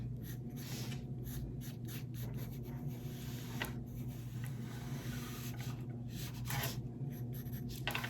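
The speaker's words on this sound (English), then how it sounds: "I'm going to go ahead and draw the heart." A pen or marker traces a heart outline on a template for a fused glass heart coaster, making quiet, close scratchy strokes in short repeated bursts.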